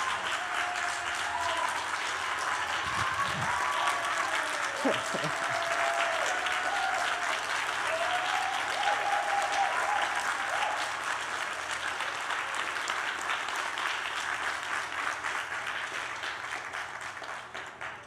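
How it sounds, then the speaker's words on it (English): Sustained applause from an audience at a Carnatic music recital and birthday celebration, steady and full for many seconds before gradually thinning toward the end, with a voice speaking faintly over it. "Can we get another round of applause, please?"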